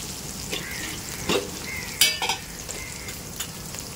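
Potatoes fry with cumin in a pan for Maharashtrian sabudana khichdi, giving a steady close sizzle punctuated by several sharp utensil clinks and scrapes against the pan.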